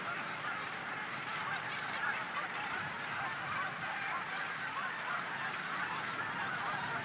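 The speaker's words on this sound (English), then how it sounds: "this is one of the largest colonies of gannets in the world." A dense gannet colony on the Skellig islands off Ireland keeps up a continuous, harsh chorus of overlapping honking calls, distant and steady with no gaps.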